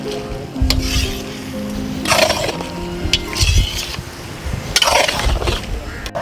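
Lamb karahi stirred in a pot after ghee is added, with a spoon scraping and clanking against metal in several bursts over a low sizzle, moderately close.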